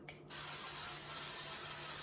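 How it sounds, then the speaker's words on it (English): Cooking oil sprayed from a can onto raw chicken thighs, a single short hissing burst after a brief pause, close and fairly quiet. "Nice even spray."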